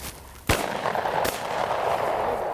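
A hunting rifle shot rings out in southern woods, a sharp loud crack followed by a second, softer report about a second later, with outdoor ambience carrying on afterward.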